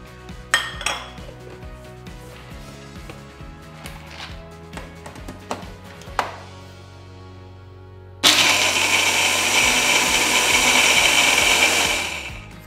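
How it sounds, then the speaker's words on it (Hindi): Clinking and knocking of a mixer grinder jar being handled, then a loud steady whir kicks in as it grinds roasted walnuts, running for several seconds before easing off. "उसको अब हम मिक्सी में grind कर"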